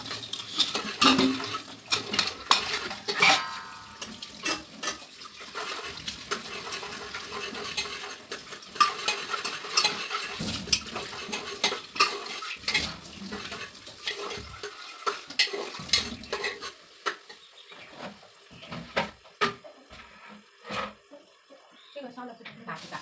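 Ginger and garlic stirred and fried in a pan, with clattering spatula strokes against the pan over a light sizzle, coming in irregular bursts with pauses, and someone talking intermittently in the background.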